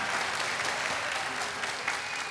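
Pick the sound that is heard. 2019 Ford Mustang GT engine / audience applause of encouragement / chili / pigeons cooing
audience applause of encouragement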